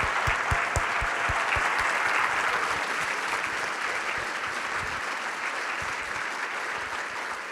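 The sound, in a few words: audience round of applause for the team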